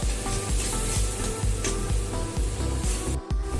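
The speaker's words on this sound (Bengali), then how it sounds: "এখন খুব ভালোভাবে মশলাটা কষিয়ে নেব।" Spice paste with chopped tomato fries in hot oil in a pan, giving a dense, continuous sizzle with crackles throughout and steady rhythmic scraping thuds from stirring, close and loud.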